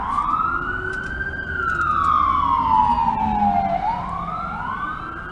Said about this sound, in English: Yeah, with the sirens tripping.